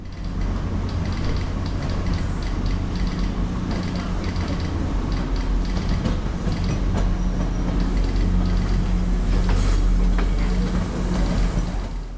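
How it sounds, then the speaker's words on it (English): Metro-North train 6837 rolls steadily off the Danbury branch in South Norwalk, a continuous low rumble of wheels and car bodies with faint metallic clanks and squeals, loud and close throughout. "Metro North Train 6837 eases off the Danbury branch."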